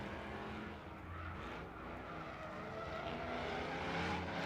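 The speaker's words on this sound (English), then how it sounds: "Make some noise for Danny George, the V8 powered Mazda Miata" V8-powered Mazda Miata drift car at a Formula Drift night event in Las Vegas, a distant engine roar mixed with tire squeal and crowd ambience that swells slightly toward the end.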